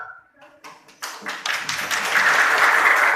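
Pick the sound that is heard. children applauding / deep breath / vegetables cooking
children applauding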